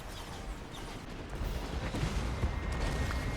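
Cannon and artillery fire in a Total War: Warhammer gunpowder battle, a dense rolling barrage of low booms and crackling shots that swells louder midway and carries on without pause.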